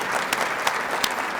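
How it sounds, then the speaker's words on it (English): Applause for JROTC and middle school leadership cadets at a school district superintendent's breakfast comes as a close, continuous patter of many hands, with a few sharper claps standing out, and no voices over it. "Let's give them another round of applause."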